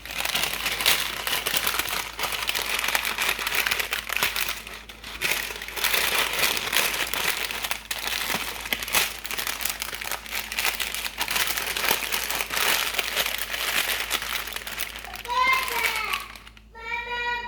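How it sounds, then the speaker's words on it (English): Parchment paper wrapped around a yellow pepper crinkles and crackles steadily as it is folded up, close and continuous, with a voice speaking and a brief squeak near the end. "That's the yellow pepper in the parchment paper. So I'm gonna go ahead and then fold it up"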